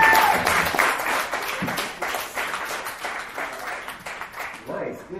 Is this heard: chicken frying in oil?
no